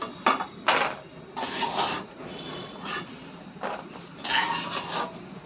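Roasted almonds fried in ghee being scooped out of a pan onto a plate, a series of close metallic scrapes and clinks of utensil against cookware in irregular bursts.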